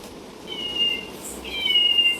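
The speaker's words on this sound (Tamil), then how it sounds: "பூனைக்குட்டி சவுண்டு." A kitten gives two thin, high meows, the second slightly longer, fairly faint against quiet indoor background noise at a child's birthday celebration.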